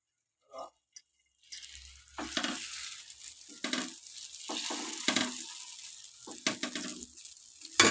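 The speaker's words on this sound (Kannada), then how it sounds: "ಇವಾಗ ನಾನು ಇದ್ರ ಮೇಲೆ ದೋಸೆನ ಹಾಕ್ತಾ ಇದ್ದೀನಿ ನೋಡಿ" Dosa batter for Mysore masala dosa poured onto a hot pan, bursting into close, steady sizzling after a few soft clinks, with scraping spreading strokes over the hiss.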